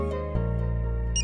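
A telephone ring bursts in over a film's music track, a brief electronic ringing tone toward the end of a sustained musical chord.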